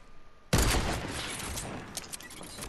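A gunshot blast from a hunting or sniper rifle in the video game Fortnite, one sharp loud crack followed by a long, noisy echoing tail.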